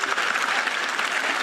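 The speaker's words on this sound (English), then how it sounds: "Yes, you can clap for that" Audience at a ceremony in Barbados applauds steadily and fairly loudly, a dense wash of clapping hands that fills the whole moment with no talk over it.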